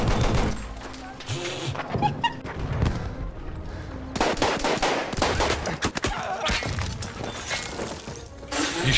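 Battlefield machine gun fire crackles in dense rapid bursts, loud and close, with clattering shots and crashes breaking up a busy battle mix while people talk.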